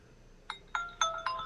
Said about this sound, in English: Why do you got the jingle noises and stuff now? Because I turned the phone off.